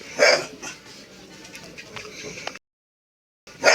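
A dog barks in the video game Minecraft, a short bark at the start and another at the end with quieter room sound between, broken by a brief silent gap.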